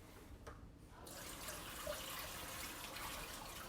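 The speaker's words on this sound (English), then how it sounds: "I've got to rinse my tablespoon off real quick because it still has garlic on it" Tap water runs into a kitchen sink as a tablespoon coated with garlic is rinsed, starting with a brief splash and then settling into a steady close hiss of flowing water.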